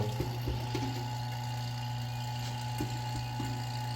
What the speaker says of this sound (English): Sorry if it's a little noisy, our pump is working right now